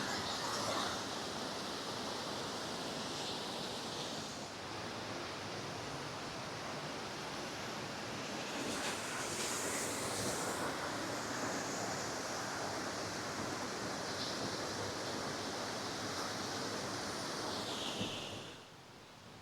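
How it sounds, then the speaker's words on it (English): Aira Force waterfall near Ullswater in the Lake District, a constant broadband roar of rushing water heard from nearby, steady throughout, easing slightly at the very end, with no talking. "A bit of the waterfall we missed on the way up."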